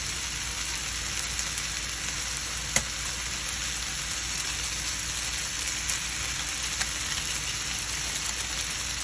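Dried garlic frying in a pan for spaghetti peperoncino makes a loud, constant crackling sizzle with scattered pops and one sharp tap, continuing evenly without talk.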